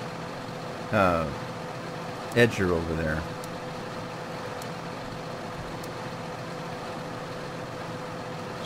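A tractor in Farming Simulator 2013 on the Idaho map, a steady low engine drone running throughout, with brief bits of someone talking over it.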